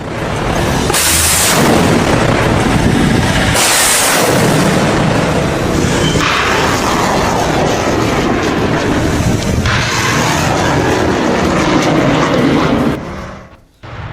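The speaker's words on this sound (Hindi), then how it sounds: "ये डबल लॉन्चर है हिजबुल्लाह के। डबल लॉन्चर से इजराइल पर दाग दिया है।" Hezbollah double rocket launcher firing toward Israel, a continuous loud roaring rush with repeated surging blasts around the launches, sustained for most of the stretch before cutting off abruptly.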